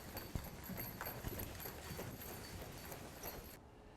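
Horse hooves clip-clop on the ground at a ranch, a faint, fairly distant series of uneven thuds that goes on throughout, with no one talking.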